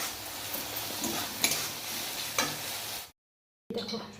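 Fish curry cooks in a pan, giving a steady close sizzle with occasional stirring scrapes; the sound cuts out abruptly for a moment near the end, then briefly returns.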